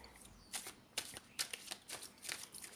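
Hermit Tarot cards are shuffled and drawn by hand in quick, soft riffling bursts, about six in a row, quiet and close with no talking.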